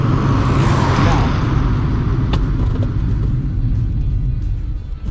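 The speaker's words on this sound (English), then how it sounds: "I'm going to brake as I pass the camera" A non-turbo Fiat Uno brakes hard as it passes close by on a road, a loud, steady engine and tyre rumble that fades slightly toward the end, with a couple of brief sharp clicks partway through.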